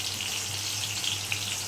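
Lightly fried tomatoes sizzle in a pan with boiled potatoes, a soft continuous crackle with scattered small pops of hot oil and no one speaking.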